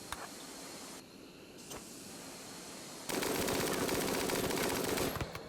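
Sustained minigun fire from a RimWorld battle, a dense rapid stream of shots that starts loud midway and runs continuously for about two seconds after scattered quieter shots, with no talking.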